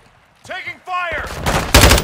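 Gunfire in Call of Duty: Modern Warfare II: after a voice shouts a line, a loud, close burst of rapid shots builds up and grows more intense at the end.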